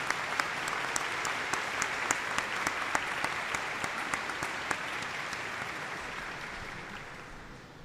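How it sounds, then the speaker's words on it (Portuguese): Applause from the audience at a solemn legislative session awarding a medal, a quiet, steady wash of clapping with a few sharper claps standing out, slowly tapering off. "recebam com muitas palmas"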